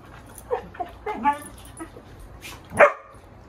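Dogs yipping and whimpering at home in the late afternoon, a few short scattered barks and whines with one louder yelp near the end, heard fairly close in a quiet room.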